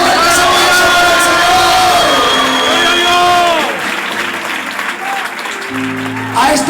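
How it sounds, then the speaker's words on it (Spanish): A church congregation in Spain claps and shouts for its pastor at a 42nd anniversary service, loud dense applause with whoops and voices over it that thins out midway, then voices carry on. "¡Fuertes aplausos para el"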